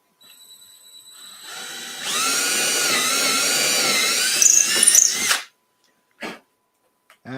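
A power drill used while laying roadbed and track on a model railroad layout whines up and runs steadily at high pitch for a few seconds, then stops, followed by short clicks and bursts, close and loud.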